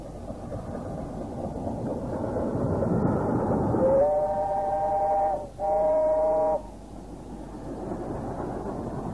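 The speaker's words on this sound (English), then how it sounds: "A4 number 60024 Kingfisher is seen heading a special train towards Exeter" LNER A4 steam locomotive 60024 Kingfisher chugs past hauling a special train toward Exeter, its rumbling roar swelling, with two long whistle blasts sounding midway.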